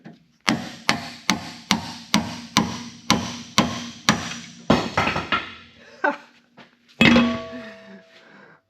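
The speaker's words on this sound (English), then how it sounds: "when I smack it with the pickle fork, it doesn't fall on the ground" A hammer smacks a pickle fork driven against a ball joint nut on an offroad wrecker, about nine sharp metallic blows in an even rhythm close up, followed by a few scattered clanks and a final heavy knock as the part lets go.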